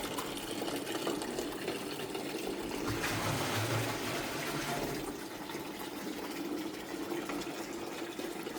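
Water pouring into a tank, a steady rushing trickle with a faint mechanical hum beneath, moderately quiet and continuous without speech.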